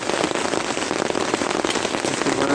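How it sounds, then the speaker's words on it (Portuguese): Heavy rain falls at a carnival-season campsite, a dense, continuous patter of drops hitting tarps and surfaces close by, loud and unbroken, with no voices. "Aí começou a chover."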